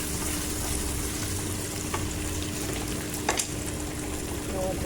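Potatoes with turmeric and dhenki greens fry in a pan with a steady, close sizzle. A couple of sharper scrapes of stirring cut through around the middle and near the end.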